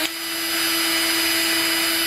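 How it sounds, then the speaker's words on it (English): A cordless drill running as the spindle of a DIY metal lathe build, starting abruptly and holding a loud, steady whine with a strong constant motor tone, close and uninterrupted. "I put my foot on the trigger of the drill."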